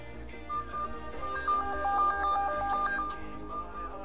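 A lost phone plays its ringtone after a remote find-my-phone request, a short repeating electronic melody of bright beeping notes, fairly quiet over a low background hum.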